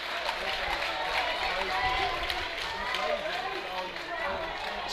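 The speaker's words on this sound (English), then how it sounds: "This crowd is loud." A loud crowd fills the stands at a high school baseball game, a steady dense roar of cheering and chatter with a commentator's voice talking over it throughout.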